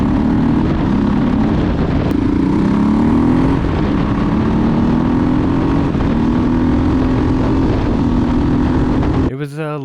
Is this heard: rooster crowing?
no